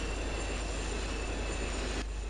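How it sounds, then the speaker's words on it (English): Steady rumble and rail noise of a freight train in GTA San Andreas, a continuous even roar throughout, with a faint high whine above it. "In order to get the train, you have to stop at one of these stations and wait for it."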